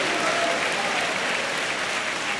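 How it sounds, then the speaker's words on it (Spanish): A church congregation applauds during a sermon, giving a loud, dense, sustained round of clapping from many people that holds steady throughout without a break. "¿Cuánto da un fuerte aplauso a Cristo, hermano?"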